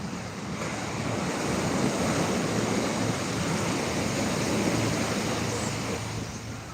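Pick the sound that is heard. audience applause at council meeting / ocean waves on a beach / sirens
ocean waves on a beach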